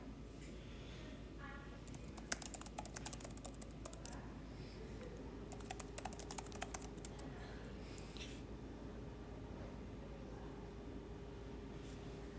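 Quiet keystrokes on a computer keyboard as a name is entered, two short bursts of rapid tapping over a low steady hum, with faint scattered clicks in between.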